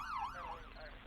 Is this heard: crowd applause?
no